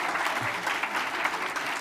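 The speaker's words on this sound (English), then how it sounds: "Thank you very much, and another applause." Applause from a seated conference audience, a dense, continuous patter of many hands clapping together at steady volume, fairly close and uninterrupted by talk.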